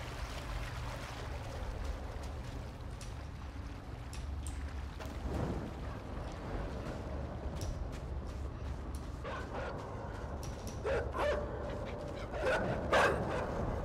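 Dogs bark in the video game INSIDE, with a few scattered barks and yips rising over a steady low rumble and hiss of ambience, growing busier toward the end.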